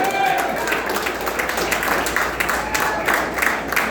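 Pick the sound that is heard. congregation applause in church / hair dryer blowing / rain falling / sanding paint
congregation applause in church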